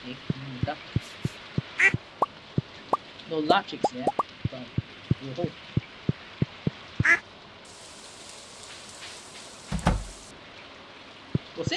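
Small plopping taps and a few short quacks from a duck in the video game Stardew Valley, repeating irregularly during rainy farm gameplay, with someone talking over them.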